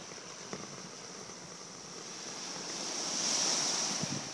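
Ocean waves wash steadily onto a beach on Catalina Island, an even rushing surf that swells louder toward the end, with light wind noise.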